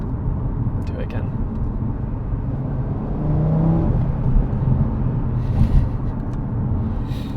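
A 2018 Audi RS3 quattro accelerates through its gears, a steady low engine drone that swells midway and holds loud, with a faint whir on top.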